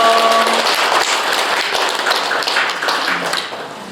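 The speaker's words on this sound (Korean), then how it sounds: "큰 박수 한번 보내주십시오" An audience at a Buddhist college lecture gives a round of applause for a professor, many hands clapping at close range, loud at first and tapering off near the end.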